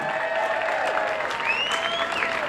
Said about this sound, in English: a please big hand of applause